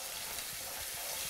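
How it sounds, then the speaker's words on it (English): Spice paste fries in oil with a splash of water while it is stirred, giving a steady, close hiss and sizzle with faint scraping and no voices. "Give it a good stir."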